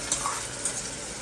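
Khichdi tipped into hot spiced tempering, sizzling steadily while a spoon stirs through it, with a couple of louder scraping bursts near the start over a continuous close frying hiss.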